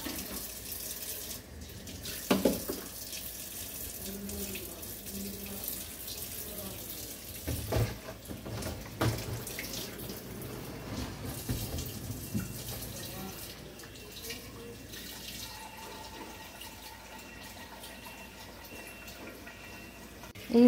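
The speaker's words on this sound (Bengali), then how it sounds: "এইবারে এইটাকে আমি জল ভরে রেখে দেব, এবং বেসিনের মধ্যেও আমি জল ভরে" Tap water runs steadily from a faucet, filling a bottle and a sink basin at close range, with a few louder splashes and knocks along the way.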